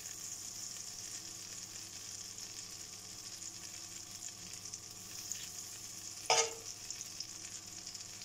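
Beef cut into very small pieces frying with thinly sliced onions in a pan, a soft steady sizzle running throughout with one brief sharp clatter near the end.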